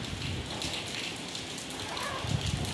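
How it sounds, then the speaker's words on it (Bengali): Steady rain falls outdoors during Cyclone Remal, a continuous broadband patter with occasional heavier drops, moderately loud and with no voices. "বৃষ্টি হয়েই যাচ্ছে"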